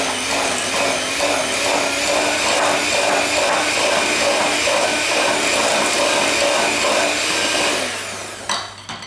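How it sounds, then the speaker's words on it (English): An electric mixer creams butter, sugar and apple puree for apple pecan cinnamon biscuits, a loud steady whir running continuously before slowing and stopping near the end. "I'm just going to cream all of these ingredients together again."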